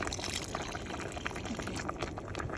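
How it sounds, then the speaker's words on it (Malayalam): Steady pouring of water into a pot of sambar, a continuous splashing rush with no voices over it. "കുറച്ച് വെള്ളം ഞാൻ ഒഴിച്ച് കൊടുക്കുക"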